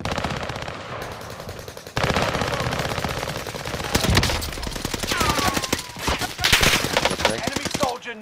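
Video game gunfire roars in fast machine-gun bursts and rapid single shots, loud and close, continuing throughout with voices talking underneath.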